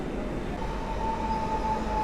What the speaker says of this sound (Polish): dwa pociągi lotniskowe w ruchu, przed nami ten, który jedzie do Modlina.